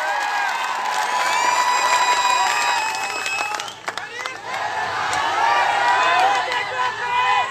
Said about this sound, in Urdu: زوردار تالیوں میں امتیاز علی صاحب کا استقبال کریں.